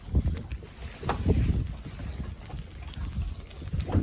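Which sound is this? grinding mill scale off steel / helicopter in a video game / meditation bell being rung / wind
wind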